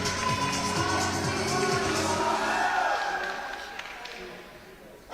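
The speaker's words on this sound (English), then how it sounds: "there's a great cheering going on here in the wall in Sunderland" Crowd cheering and shouting at an indoor ice climbing wall in Sunderland during a competition final, a loud broad roar that stays steady for several seconds before easing off toward the end.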